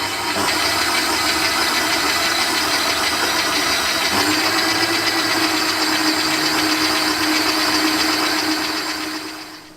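A stand mixer motor whirs continuously for about ten seconds while kneading dough, its pitch rising slightly partway through as the speed is raised, with no voices.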